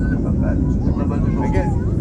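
Airliner cabin during the climb after takeoff on a July 2018 flight to Cuba, a loud steady engine roar and rushing air filling the whole stretch without pause.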